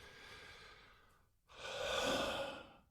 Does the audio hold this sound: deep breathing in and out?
yes